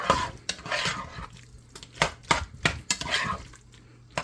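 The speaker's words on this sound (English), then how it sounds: "Then what we're going to do is just stir that up." A spoon stirs melting butter in a pot for garlic potatoes, making irregular close scrapes and clinks against the metal with short pauses between strokes. No one speaks.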